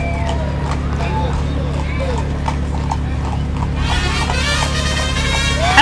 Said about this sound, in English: And some more dancing horses.